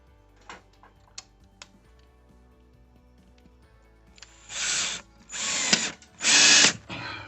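A power drill drives a mounting bolt for a mini split air conditioner, with a few faint clicks and then three or four loud, close bursts of whirring that grow longer and more strained.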